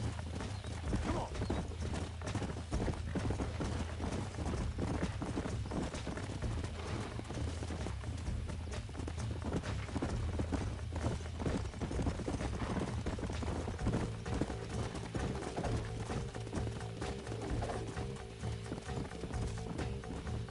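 Horse hooves clip-clop in a steady trotting rhythm in Red Dead Redemption, with occasional whinnies and faint mechanical clanks over a dense game soundscape.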